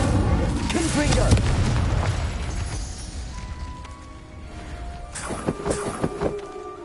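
A Confringo spell explosion in Hogwarts Legacy booms loudly at the start and rumbles as it fades, followed by lighter magical impacts and chimes; a voice speaks over it.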